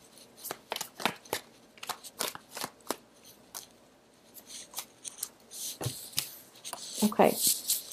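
Tarot cards are shuffled up close in a run of quick papery riffles and slaps, irregular bursts that carry on through the whole stretch, with a brief rustle near the end.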